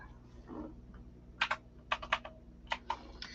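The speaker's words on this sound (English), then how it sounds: "So now I gotta use this mechanical keyboard that I had bought." A mechanical computer keyboard is typed on in short, quiet bursts of sharp clicks, about a dozen keystrokes in irregular clusters over faint room hum.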